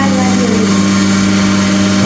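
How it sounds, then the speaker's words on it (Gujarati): A chakki flour mill machine runs loud and close with a steady droning hum and strong constant tone, unbroken for the whole stretch. "આ ચાકી બંધ કરો."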